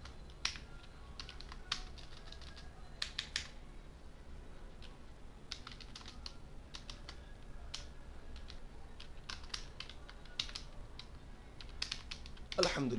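Quick, light clicks of typing on a computer keyboard come in irregular bursts with short pauses while a PHP file is written. The keystrokes are close but faint in a quiet room, and a louder thump comes at the end.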